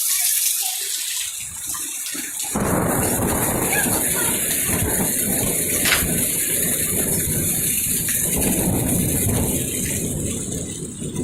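Heavy rain pours steadily during a thunderstorm over Ormond Beach, Florida, a dense, loud hiss that starts abruptly after a quieter opening and runs unbroken to the end.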